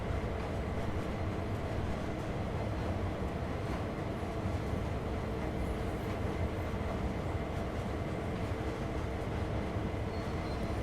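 In Train Sim World 2, a freight locomotive hauls its wagons slowly uphill on Sand Patch Grade, giving a continuous heavy engine rumble and rolling rail noise at steady loudness throughout, with no talking.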